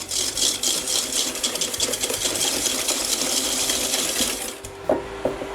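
Egg yolks whisked with caster sugar in a bowl for a pistachio and sour cherry bûche, a fast, even metallic clatter of the whisk against the bowl repeating rapidly and close, then easing off with a couple of final taps.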